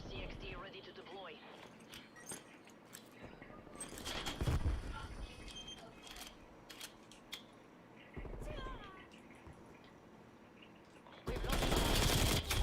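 Rapid automatic gunfire in a Call of Duty–style shooter, bursts of shots crackling against the floor amid game effects, loud near bursts with gaps between them, a player talking over parts of it.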